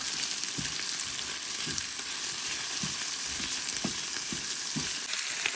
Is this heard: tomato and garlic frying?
yes